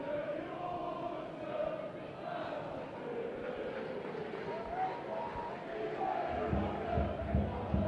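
Stadium crowd at a football match roars and shouts continuously, a dense, loud wash of voices that swells near the end.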